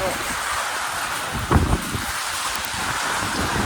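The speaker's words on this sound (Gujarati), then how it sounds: "ઉનાળાનો વરસાદ છે." Steady hiss of summer rain from Cyclone Biparjoy with wind blowing across the microphone, and one brief gust or thump in the middle.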